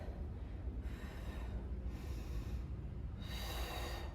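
Forceful breaths exhaled during a back and biceps weight lift, with sharp snort-like bursts repeating at an even pace over steady low background noise and no talking.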